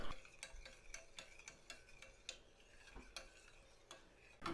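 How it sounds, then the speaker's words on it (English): A spoon stirs sugar into milk, making soft, fairly regular clinks and taps against the pot, quiet and close with a faint background hiss and no voices. "Then just give that another stir."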